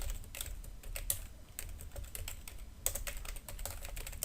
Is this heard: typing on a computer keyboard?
yes